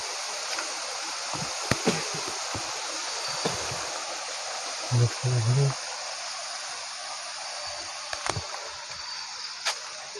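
A waterfall stream on Gunung Ledang rushes in a steady, broad roar close by, with a few brief knocks and bumps over the constant flow.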